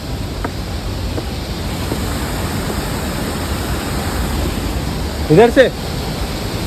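Steady broadband rush of Bhatta Falls, a large monsoon waterfall in Mussoorie, fills the whole scene at close range, with a brief voice cutting in near the end.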